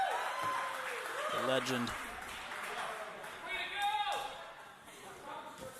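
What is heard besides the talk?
crowd cheering and applauding for an athlete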